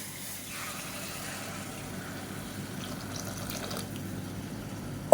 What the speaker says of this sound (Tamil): இப்போ இதில் வந்து நம்ம இந்த சூடு பண்ண தண்ணியை சேர்த்துக்கலாம்.